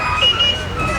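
Short electronic horn beep from a children's ride car at an amusement park at the end of summer, a quick bright tone over busy crowd and voice noise.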